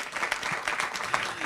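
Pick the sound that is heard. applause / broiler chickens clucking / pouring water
applause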